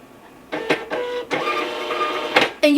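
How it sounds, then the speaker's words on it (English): An SP410 shipping label printer prints a label nearby: a loud mechanical whirring in several bursts, with brief pauses and a sharper click at the end. "I did hear the printer going in the background"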